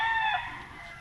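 Farm chickens call in a brief, clear cluck or crow that fades over about a second, heard alone without talk.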